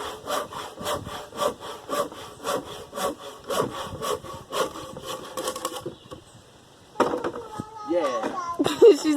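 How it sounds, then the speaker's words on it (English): A handsaw cuts wood in a quick, even run of rasping strokes, then pauses. After a short gap, children's voices and chatter are heard nearby. "that's the handsaw jig there"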